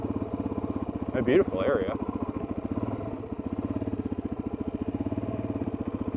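A motorcycle engine thrums at a steady, even pulse during a mountain ride, close and continuous, with a person speaking briefly over it.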